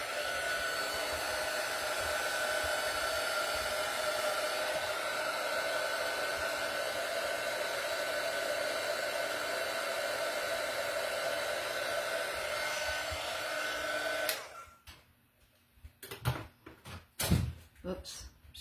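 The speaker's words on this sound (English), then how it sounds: "So I'm going to hit the blow dryer on it." A handheld blow dryer runs with a steady, loud whir for about fourteen seconds, drying 3-in-1 paint on a small riser tray, then cuts off, leaving scattered knocks and handling clatter.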